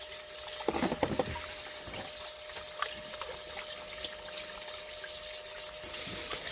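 Water sloshing with flour gold is poured back into a container at a gold mill, trickling and splashing steadily, with a burst of heavier pouring near the start.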